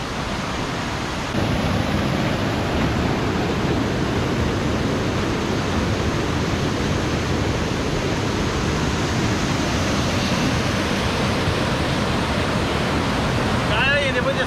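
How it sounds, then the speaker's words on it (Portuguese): The waterfall Cachoeira do Salto in São Pedro de Alcântara roars as a dense, constant rush of falling water, loud and close, filling the whole stretch without a break. "chegamos aqui na base da Cachoeira do Salto"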